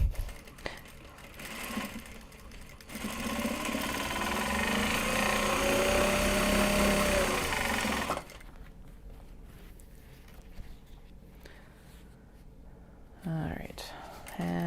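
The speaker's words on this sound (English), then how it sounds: "I'm working on a Juki DDL 8100E. It's an industrial straight stitch machine." Juki DDL 8100E industrial straight stitch sewing machine running in a fast, steady whirring burst of several seconds, then stopping, with quieter handling sounds around it.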